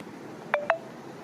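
Two short telephone keypad dialing tones sound in quick succession, clear and fairly close, with a quiet background before and after.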